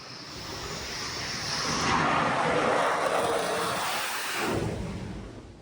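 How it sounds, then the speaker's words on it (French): Jet aircraft landing on the French aircraft carrier Charles de Gaulle at sea: a broad, roaring engine swell builds and peaks mid-clip before fading, mixed with wind and ocean noise. "L'appontage, ça consiste à faire atterrir un avion sur un bateau."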